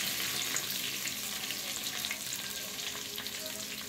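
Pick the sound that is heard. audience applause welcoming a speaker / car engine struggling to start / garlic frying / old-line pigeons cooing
garlic frying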